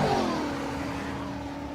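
A 2002 Mustang races down a drag strip, its engine a steady, loud mid-pitched roar holding a sustained tone for the whole stretch with no talk over it.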